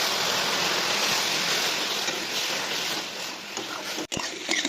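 Water poured into toasted semolina in a hot pan for upma gives a loud, steady rushing hiss for about four seconds, then it cuts off abruptly, leaving a few small clicks and sputters.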